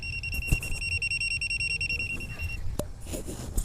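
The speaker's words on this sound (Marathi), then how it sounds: "तुम्हाला अजून क्लिअर ऐकायचं असेल तर याचा बीपचा आवाज ऐका तुम्ही" A multimeter's steady, high-pitched continuity beep sounds continuously for about two and a half seconds, then cuts off, with a few light handling clicks around it.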